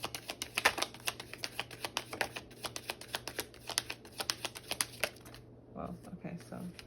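Tarot cards shuffled and handled, a quick series of crisp riffling and slapping snaps repeating steadily for several seconds before a short pause and softer handling, recorded close with a faint low hum underneath.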